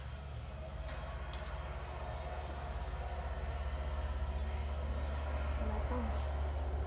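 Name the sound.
tractor passing by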